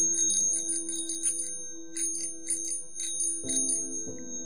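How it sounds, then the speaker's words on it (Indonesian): An old-style bicycle bell gives a ting-tong ring, heard as quick repeated bright ringing strokes over a sustained steady tone, clear and fairly close with no talking. "Tiba-tiba aku mendengar suara bel ting-tong sepeda ontel"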